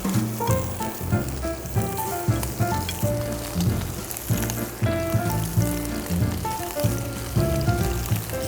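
Italian meatballs, hand-rolled into even balls, fry in a pan with a steady, close sizzle that holds at an even level throughout, with no voices.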